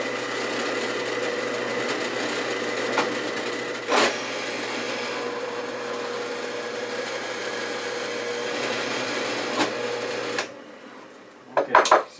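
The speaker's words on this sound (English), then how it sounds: "So my first challenge is to drill a through hole big enough for the cord to go through" Power drill boring a through hole in a piece of wood for a toy, a steady whirring motor hum that runs continuously for about ten seconds, then stops, followed by a few clunks as the drill is handled.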